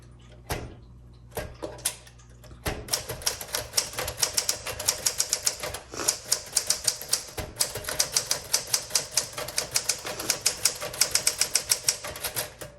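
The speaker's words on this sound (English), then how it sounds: "the bad thing about the bell not working, it doesn't tell you that you're at the end of your margin, but the typewriter itself will just stop" Typing on a 1962 Smith Corona Sterling manual typewriter in seafoam green, with a few hesitant opening strikes and then a steady, quick run of crisp keystrikes, close and clear with no voices.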